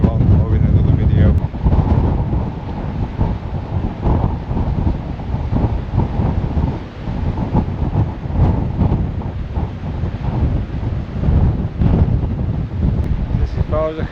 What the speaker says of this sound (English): now you can hear that wind now as we're just coming around the lighthouse